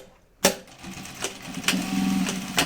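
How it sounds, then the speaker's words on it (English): A sewing machine stitches down the strap of a Hillside tote bag in short bursts, starting abruptly, pausing briefly and running again, close and fairly clear. "And make sure you sew it down good."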